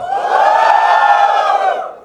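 An audience at a stand-up comedy show lets out a loud, sustained collective cheer and whoop, swelling quickly and holding for about two seconds before fading, close and without anyone speaking over it.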